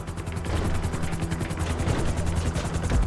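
A helicopter touching down in Grand Theft Auto V, a dense rapid rotor chop and whine held steady and fairly loud throughout, with no voices.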